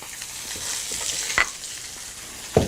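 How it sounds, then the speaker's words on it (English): Fish frying in a pan gives a steady close sizzle and crackle, with a couple of sharp pops standing out from the continuous hiss. "I can still hear it sizzling and cracking a lot."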